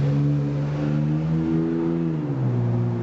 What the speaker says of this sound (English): It's rush hour here, so we get to listen to all that lovely traffic.